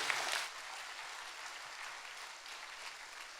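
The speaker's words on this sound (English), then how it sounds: "can I ask you to join me in giving our four panelists a big round of applause for their sharing?" Audience applause for four roundtable panelists at a higher education leaders' forum, steady and fairly faint throughout, slightly louder at the start.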